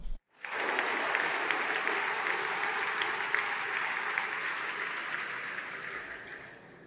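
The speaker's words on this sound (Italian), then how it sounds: "Ci sono tantissimi applausi dall'aula della Camera" Sustained applause fills the Italian Chamber of Deputies, a dense, steady wash of many hands clapping that starts abruptly after a brief silence and holds at an even level throughout.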